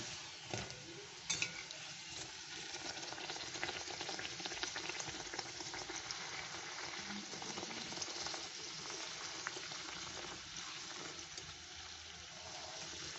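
Dal puri, lentil-stuffed flatbread, deep frying in hot oil, giving a steady, dense crackling sizzle throughout with a brief louder pop near the start and no talking.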